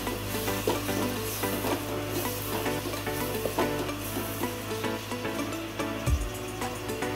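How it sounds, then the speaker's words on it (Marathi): Chopped tomato fries and sizzles in a hot pan while being stirred for a masoor lentil biryani, a steady close crackle with a scrape of the spoon near the end. "हा टोमॅटो, पण छानपैकी असा फ्राय करून घ्यायचा।"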